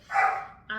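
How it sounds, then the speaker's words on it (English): One dog lets out a single sharp bark, followed by a shorter, quieter yelp that is cut off. It sounds fairly close, with no talking. "Crazy dog"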